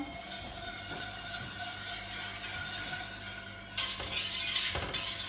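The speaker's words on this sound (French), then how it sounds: "Donc à feu doux et je mélange." Flan mixture with vanilla sugar is stirred in a pot over low heat, making soft continuous scraping and swishing that turns louder and brighter in the final second and a half, with no voices.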